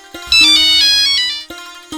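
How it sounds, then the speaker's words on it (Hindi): A mobile phone ringtone rings loudly and steadily for about two seconds, a bright repeating electronic melody with brief pauses, heard alone with no talking over it. "देख तो बेटी काकर फोन आवत है, अब्बड़ बेर के बाजत है"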